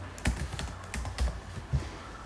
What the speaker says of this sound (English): like I'm typing here.